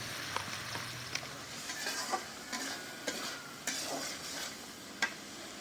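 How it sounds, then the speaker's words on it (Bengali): Ground turmeric, chili, coriander and cumin powders frying and being stirred in a pan, a steady close sizzle with scraping strokes and occasional light clinks of a spatula, no talking. "একদম ভালো করে মশলা ভুনা করে নিলাম"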